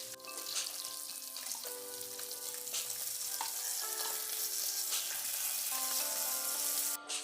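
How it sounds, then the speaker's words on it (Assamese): Pieces of fish are turned over in sizzling oil in a wok, with a constant close crackle of frying broken by spatula scrapes and clinks, then a brief clatter near the end; nobody speaks. "এনেকৈ লুটিয়াই মাছখিনি মই ভাজি লৈছোঁ।"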